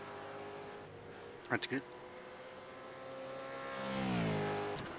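A street stock race car in the iRacing sim at Bathurst drones steadily with a harmonic engine note, swelling as it revs up and falling away, under brief talk.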